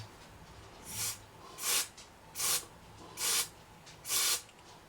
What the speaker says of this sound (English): I'm going to just spray it down there.